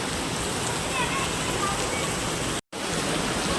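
Heavy rain pouring down outdoors at Science City in Ahmedabad, a dense, even hiss of falling water close by that fills the whole stretch, with one brief dropout near the end.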